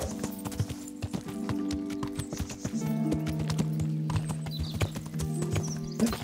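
Horse hooves clip-clopping steadily on the ground in the medieval video game Kingdom Come: Deliverance, a dense, continuous rhythm of close hoofbeats under sustained game music.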